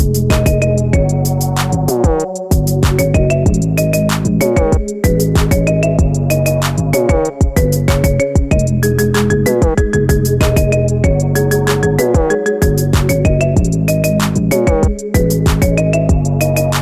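A bright, plinking marimba ringtone, a remix of a pop song, loops continuously, loud and close, with a repeating rhythmic tune and no voices.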